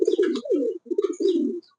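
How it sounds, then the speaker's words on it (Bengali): Chila breed pigeons cooing close by, two rolling low coos in quick succession, loud and clear with no talk over them. "দেখতে পাচ্ছেন আমার সেই চিলা কবুতর"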